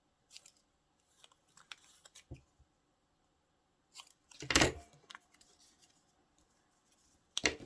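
Scissors snip through an index card in a few short, crisp cuts separated by pauses, with one louder, longer cut midway and another at the end, close and quiet with no talking.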